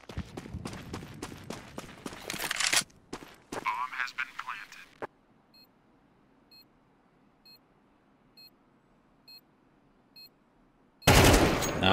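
Rapid rifle shots crack in tight bursts during a Counter-Strike round, followed by a quiet stretch of faint periodic beeps before another loud burst of fire; voices talk over the shooting.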